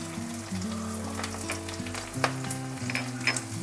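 Onion, curry leaves and turmeric sizzle steadily in a pan for a home-style okra fry, a continuous close crackle with a few sharper spits, heard under steady background music.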